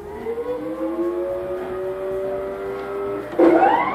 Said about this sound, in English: We've now, just now started the pump, and it started right away, no issue.